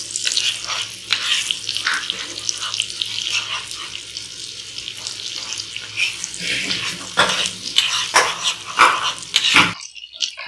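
Ginger garlic paste sizzles in a hot pan, a bright, crackling hiss that holds steady throughout, with scattered clinks and stirring noises before it cuts off abruptly near the end.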